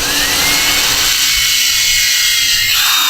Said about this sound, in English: the reason you want to drill is because this being a hardwood